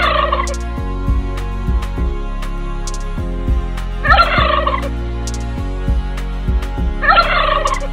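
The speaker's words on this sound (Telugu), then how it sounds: "గిన్ని కోడి అనుకుంటా అండి" Guinea fowl at a zoo call in repeated harsh, rattling bursts, loud and close, with a steady low hum underneath and no speech.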